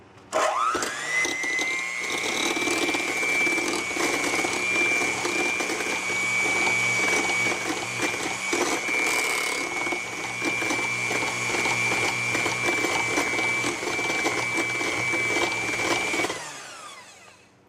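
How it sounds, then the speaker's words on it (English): An electric hand mixer on its lowest speed whirs steadily and loudly for a long stretch, a constant motor whine that spins up at the start and winds down at the end. "You do the lowest speed on your hand mixer."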